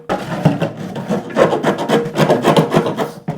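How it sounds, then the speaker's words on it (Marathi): A heated knife works through a plastic water bottle, giving a close, steady rasping and scraping in repeated strokes with no talking. "तर इथं पण असा चाकू लावून घ्यायचा आहे आपल्याला, चाकू गरम करून"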